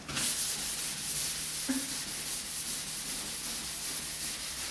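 Wet sanding the guide-coated primed body of a Fiat Spider by hand, a steady soft rubbing rasp that continues unbroken at close range, fairly quiet.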